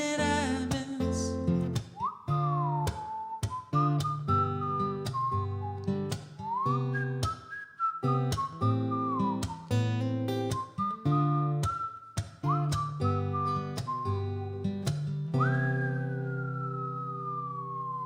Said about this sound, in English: That was a lot of whistling.